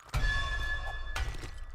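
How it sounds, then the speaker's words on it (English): In the game 7 Days to Die, a tool strikes bedrock while digging: two hard metallic clanks with a ringing tone, each followed by a brief low rumble, close and fairly loud with no talk. "That noise means you hit the bedrock."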